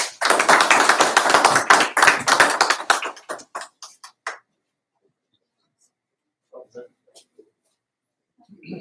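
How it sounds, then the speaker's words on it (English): Audience applause at an awards ceremony, a dense burst of clapping for about three seconds that thins into scattered claps and fades out, followed by near silence with a few faint sounds. "I want everybody to give a physical and virtual hand of applause"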